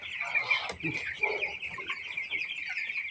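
Broiler chickens cluck and chatter softly in a group, a faint steady murmur of overlapping calls with a few sharper clucks near the start.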